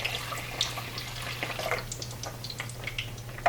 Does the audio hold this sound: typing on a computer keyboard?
no